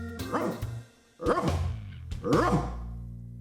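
A man imitating a dog's bark with his voice while trying to put out a flame, three loud close woofs with short pauses between them, no other talk.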